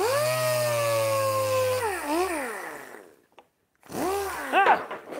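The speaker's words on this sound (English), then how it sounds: "So I'll just round it off with a sander." A power sander rounds off a carved wooden gargoyle head in a wood shop, a loud tonal whine that dips in pitch under load, stops briefly, then spins up again.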